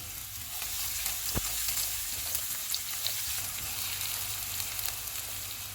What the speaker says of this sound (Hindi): ऑयल गर्म हो गया, इसमें प्याज डालेंगे। चूल्हे को मीडियम टू हाई रखेंगे और इनको 1 से 2 मिनट तक फ्राई करेंगे।